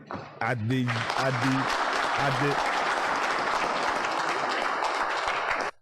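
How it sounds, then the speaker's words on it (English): Sustained audience applause fills the space, dense and steady, with a voice speaking briefly over the opening moments before the clapping carries on alone until it cuts off. "what are we clapping about?"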